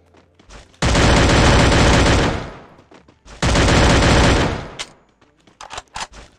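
Automatic gunfire from the video game Free Fire comes in two long, loud, sustained bursts, each a couple of seconds, followed by scattered short shots and clicks.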